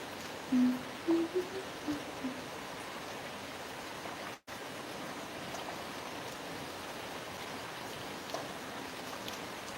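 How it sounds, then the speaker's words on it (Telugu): Steady rain falling in a village, an even broadband wash that runs through the whole stretch, with a few faint tones early on and one brief dropout near the middle, and no talking. "మా ఊర్లో వర్షం పడుతుంది"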